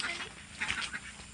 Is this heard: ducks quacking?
yes